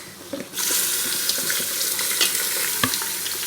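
Mutton pieces added to golden fried onions with black pepper hit the hot pan, and a loud continuous sizzle springs up after a quiet start, with occasional stirring clicks.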